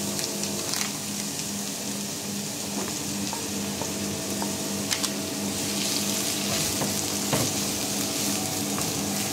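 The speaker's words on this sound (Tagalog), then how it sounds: "So start na natin maggisa. Unahin natin yung sibuyas." Onions sizzle steadily in about two spoonfuls of hot oil in a pan, a dense continuous frying hiss with faint stirring scrapes, no voices.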